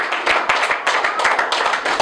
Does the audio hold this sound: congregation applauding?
yes